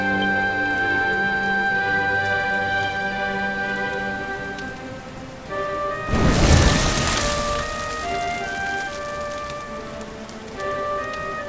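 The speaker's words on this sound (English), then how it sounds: "Looks like the rain's dying" Rain falls steadily in the video game Dragon Quest XI, a soft patter under sustained tonal music, with a louder rumbling surge midway that fades back into the rain.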